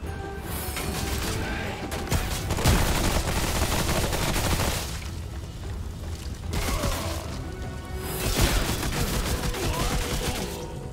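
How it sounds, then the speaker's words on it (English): Sustained submachine gun fire during a boss fight against Scald and Sear in Remnant From the Ashes, heard as dense, loud automatic bursts mixed with combat clatter in two long waves. "let's go for some submachine gun action"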